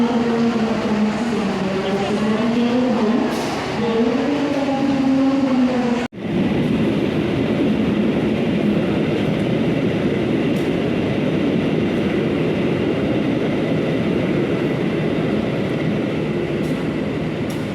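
A train at Lempuyangan station in Yogyakarta, where passengers board a night train. Loud, steady rumble continues throughout, with tonal warbling in the first six seconds before an abrupt break, then broadband rolling noise.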